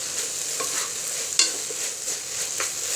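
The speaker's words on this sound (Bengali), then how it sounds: "আর 2-3 মিনিট জাল দিব শাকগুলোকে" Jute leaves frying in a pan while being stirred, a continuous bright sizzle broken by several scraping stir strokes, one sharper knock near the middle, close and clear with no talking.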